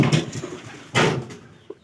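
A sick, weakened pigeon gives a short, close cooing call, followed by a soft thump and a brief flutter, then quiet.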